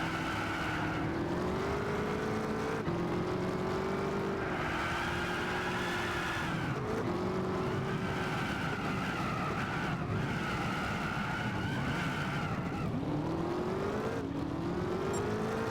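Race cars in Gran Turismo 6 during a career-mode race, engines droning continuously with rising revs as they accelerate through turns, tires skidding intermittently, several cars close together throughout.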